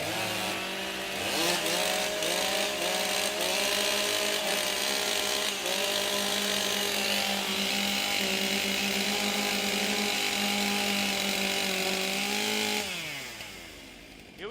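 Several chainsaws revving at once at a STIHL Timbersports competition in Australia, a loud, continuous buzzing whine with shifting pitch that holds steady and then winds down near the end.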